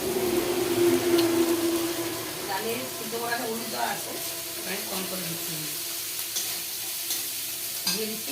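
Spices sizzle and fry in oil for dal while being stirred, with a loud hiss that settles into a steady crackle, and a person talks over the cooking.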